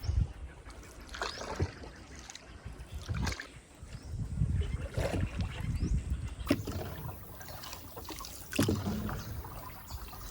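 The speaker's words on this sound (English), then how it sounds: "It's your turn to paddle." Paddles dip and pull through the water of the Mekong river as a boat is rowed by hand, splashing and trickling in an uneven rhythm with nearby rustling and knocks.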